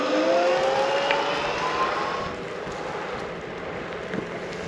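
An electric scooter capable of 90 km/h accelerates in sport mode, a rising motor whine with rushing wind that is loud at first and then eases into a steadier roar.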